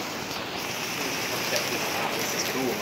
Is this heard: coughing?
no